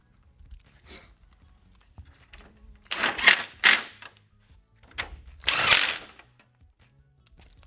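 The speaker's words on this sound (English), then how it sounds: "And screw it all back down." A power drill driving screws to fasten the grille shell back onto a 2013 Dodge Ram 1500 truck, heard as several short, loud whirring bursts with quiet pauses between them and no talk.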